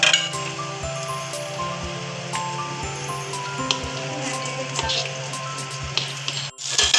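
A lid sets down on a cooking pot of Malvani fish curry with a brief metallic clink near the end, heard over soft background music.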